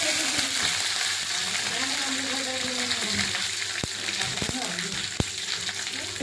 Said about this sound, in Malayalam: കടുകൊക്കെ പൊട്ടി എണ്ണയായിട്ടുണ്ട്. ഇതിലേക്ക് നമുക്ക് കുറച്ച് കരിവേപ്പില ഇട്ട് കൊടുക്കാം.